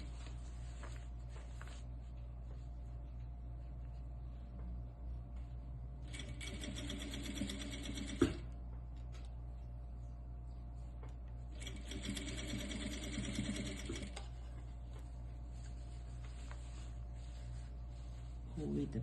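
A sewing machine stitches cloth diaper fabric in two short bursts of rapid, buzzing whirr. A quieter bit of stitching comes at the start, over a steady low hum, with a single sharp click between the bursts.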